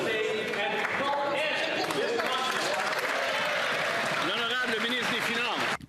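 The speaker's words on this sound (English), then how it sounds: "Through the applause." Loud parliamentary applause with desk thumping fills the House of Commons chamber during Question Period, a dense sustained roar of clapping and banging with voices mixed in, cutting off abruptly at the end.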